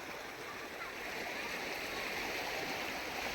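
Rainwater in a flooded village rushes steadily into a canal, a continuous broadband gush of flowing water heard throughout at moderate level, with talk over it.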